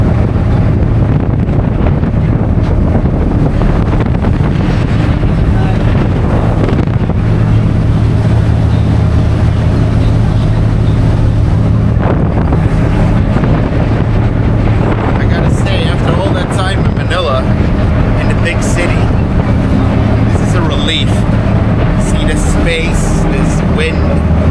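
Strong wind buffets the microphone during a boat ride in the Philippines, roaring steadily with a low engine hum beneath it, close and loud throughout.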